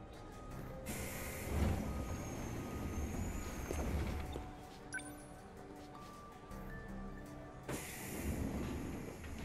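Train in the video game 13 Sentinels: Aegis Rim, a continuous rumbling rail ride with hissing bursts and faint tonal beeps.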